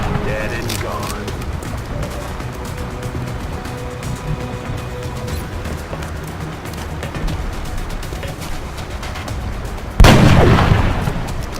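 Sniper rifle fire in the XCOM video game: mostly steady game ambience and rumble, then one loud, sharp shot bursts out near the end and rings on briefly.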